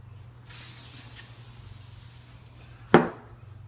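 A steady hiss of WD lubricant spray onto glass lasts about two seconds, followed shortly by a single sharp tap.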